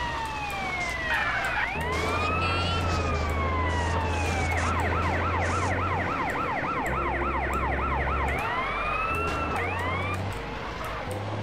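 A wailing electronic siren in the video game GTA San Andreas, during a firefighter mission, sweeps up and down, then switches to a fast yelping pattern, loud and continuous with a steady low hum beneath.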